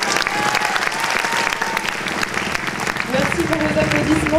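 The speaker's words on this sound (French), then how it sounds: "Merci pour vos applaudissements et vos encouragements" Gala audience at the Miss Lorraine 2011 pageant clapping loudly and continuously, a dense close wash of applause with a voice speaking over it toward the end.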